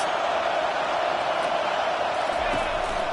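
A stadium crowd at a football game roars on third down, a steady, loud wall of cheering that holds without a break for the whole stretch.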